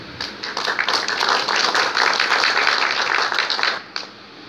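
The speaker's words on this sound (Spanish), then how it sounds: "con la cual solicito un aplauso" Audience applause at a gnostic philosophy lecture, a dense wash of many hands clapping steadily for about four seconds, fairly close and loud, then cutting off sharply.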